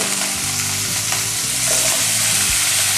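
Lotus stems and minced pork are stir-fried over high heat, making a loud, continuous sizzle right up close, with a steady low hum from the stove beneath and rhythmic spatula scrapes, with no speech.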